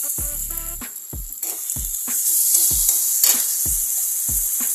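Finely chopped tomatoes fry in ginger garlic paste with a bright, constant sizzle close by, broken by a regular series of dull knocks from a spoon against the pan; nobody speaks.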